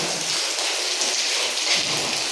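Rainwater pouring down from a roof balcony onto a building site in a dense, continuous splashing rush, loud and close, with no voices.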